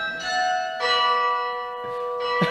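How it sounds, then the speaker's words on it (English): Church bells in Cuba ring out in overlapping, sustained metallic peals with long ringing tones, several strikes layered in succession and resonating in the open air. "I can't talk over the bells."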